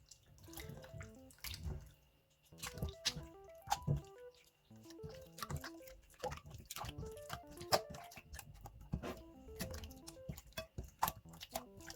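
Slime thinned with too much water gets mixed by hand, giving wet squelching, dripping and patting sounds in irregular bursts, close and fairly quiet, with no voices.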